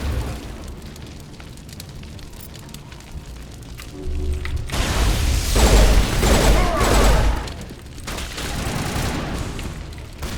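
Shotgun blasts in the Mass Effect sci-fi shooter game, a cluster of loud booming shots in the middle followed by more bursts, over a low background hum.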